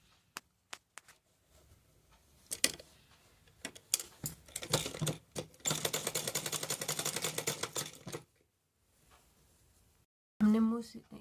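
A sewing machine stitches the folded-in opening of a small handmade quilt, in rapid mechanical bursts that start and stop, with one long run in the middle, scattered clicks around it, and a voice heard briefly at the end.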